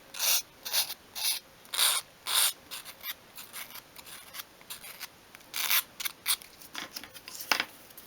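Sandpaper rubbed over a miniature 1/12th scale wooden chest of drawers in short, close, rhythmic scratchy strokes, about a dozen passes with brief pauses between them.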